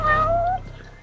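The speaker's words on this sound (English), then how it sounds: "That's no pigeon, that's a cat." A cat meows once in the video game Judgment, a clear, close, tonal cry that slides downward and then trails off over a low background hum.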